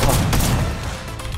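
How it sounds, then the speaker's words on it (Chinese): Air strike grenade blast in Fortnite: a loud, dense burst of booming explosions and crackling impacts over about a second and a half, slowly fading with no talking. "这个就是那个空袭手雷啊，这个是那空袭手雷"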